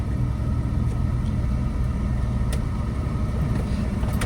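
A car rumbles at a low, steady level as the driver presses the accelerator while turning through narrow lanes, with no talk over it.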